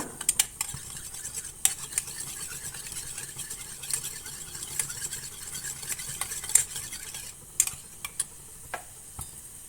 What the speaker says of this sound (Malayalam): ഒരു പിഞ്ച് ഉപ്പും ഇത്തിരി ഏലക്കാപ്പൊടിയും ഇട്ടിട്ട് നന്നായിട്ടൊന്ന് ഇളക്കിയെടുക്കുക